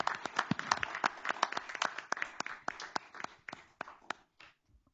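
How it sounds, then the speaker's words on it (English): A smallish group claps at a board meeting, with sharp distinct hand claps close by that thin out and fade to a few last claps before stopping. "Another round of applause."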